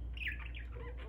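A pet parakeet squawks and chatters while playing with a mirror, its harsh, scratchy calls close and fairly faint, running in a short burst over a low steady hum.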